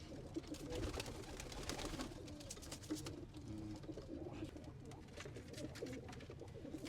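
A flock of kept pigeons, including high-flyer and chua breeds, coos continuously in a dense layered murmur, with rustling and background hum throughout.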